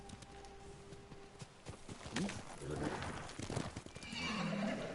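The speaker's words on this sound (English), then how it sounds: "Horse." A horse in the video game Ghost of Tsushima whinnies and snorts amid hoofbeats and ambient noise, with a voice speaking briefly over it.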